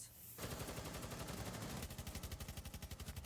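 PCX-33 assault rifle firing in Rainbow Six Siege, loud sustained full-auto bursts with a crisp, even cadence that grows more distinctly pulsed toward the end, heard alone without talk.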